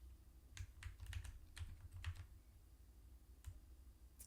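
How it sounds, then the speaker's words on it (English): Computer keyboard keys struck in a short test burst of separate clicks, roughly a dozen sharp taps spread unevenly over a few seconds, close and fairly quiet with no talking. "Okay, keyboard test."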